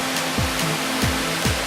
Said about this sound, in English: Can you guys hear the waterfall falling?